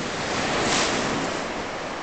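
Sea waves wash in at high tide on Felpham Beach, a broad continuous surf roar with a slight swell, mixed with wind noise on the microphone.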